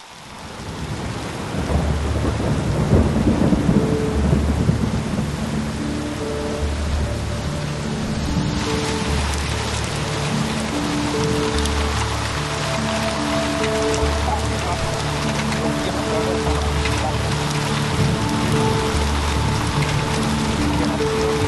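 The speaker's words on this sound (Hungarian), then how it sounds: "Rendesen elkapott bennünket a vihar" A heavy thunderstorm with steady pouring rain and rolling thunder at a fishing lake in Hetvehely, Hungary, the roar loud and continuous, thunder rumbling early before the downpour settles into a dense, even hiss.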